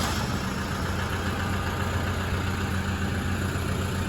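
An old, cheap car engine that had sat unused for a month, running at a steady idle with a dense, even rumble and no change in pace throughout.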